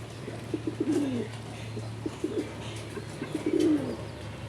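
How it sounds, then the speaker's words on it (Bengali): A male Boro Payra pigeon coos close by in three or four rolling, throaty bursts separated by short pauses, over a low steady hum. "নরের ডাক স্টার্ট হয়ে গেছে"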